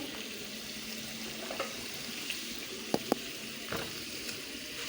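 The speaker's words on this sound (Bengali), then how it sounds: "এখন কিছুক্ষণ নেড়ে ছেড়ে মশলাটা ভালোভাবে কষিয়ে নেব" Spice paste frying and being stirred in a pan while cooking khuder bouya bhaat, a steady low sizzle with a few sharp scrapes and clinks of the spoon against the pan.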